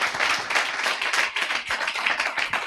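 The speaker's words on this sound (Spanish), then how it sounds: "Los aplausos es que no puedo con esto de bien." Audience at a lecture on AI and quantum computing claps steadily, a dense close patter of hands that carries on evenly throughout.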